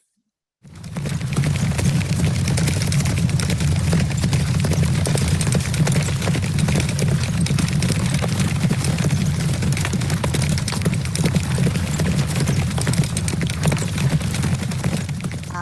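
A played recording of horses clip-clopping sets in after a moment of silence, then carries on as a dense, continuous patter of hooves, loud and steady to the end.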